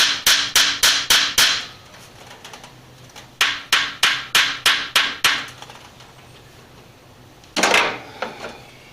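A hammer taps on stuck screws on a 1978 Dodge W150 during a thermostat and radiator cap job. Sharp metallic strikes come in two quick runs of about six, with a pause between them, and then a final harder hit.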